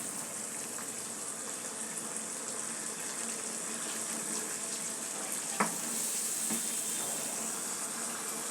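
Meat frying and being stirred in a pan on the stove, a steady broadband sizzle close up that runs throughout, with one sharp clink of a utensil partway through.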